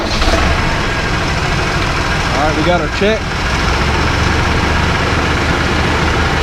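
A Mahindra 8560 tractor engine runs at a steady idle, a loud low continuous rumble, while someone talks briefly over it.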